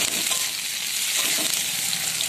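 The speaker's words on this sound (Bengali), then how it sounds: "আর ফ্লেমে ভালো করে আমি 3-4 মিনিট মতন ভাজবো।" Chopped onion, capsicum and a green chili fry hard over a high flame, giving a dense, loud, unbroken sizzle with faint crackle throughout, close by and without speech.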